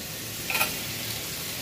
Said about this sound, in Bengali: তো ভেজে নিচ্ছি